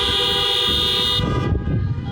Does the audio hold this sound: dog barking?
no